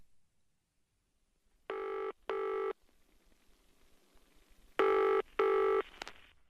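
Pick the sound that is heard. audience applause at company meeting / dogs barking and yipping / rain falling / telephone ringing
telephone ringing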